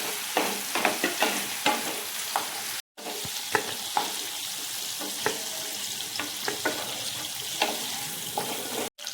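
Mushrooms sautéing in oil over a low flame while being stirred, soft sizzling with repeated spatula scrapes and taps against the pan, broken by a brief cut to silence.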